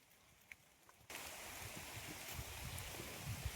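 Unseasonal Konkan rain starts abruptly after a quiet second and then pours as a steady, dense hiss, with scattered drips and patters close by and no voices.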